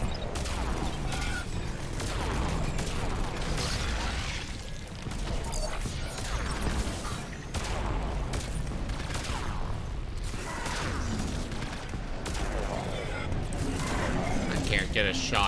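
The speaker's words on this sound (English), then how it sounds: "There are so many things throwing missiles at me." Enemy missiles and gunfire in Mass Effect 3 on the Krogan DMZ: repeated heavy blasts, crashes and rattling shots keep coming in uneven bursts throughout, with someone talking over the barrage.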